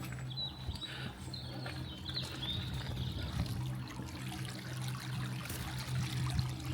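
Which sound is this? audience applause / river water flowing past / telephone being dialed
river water flowing past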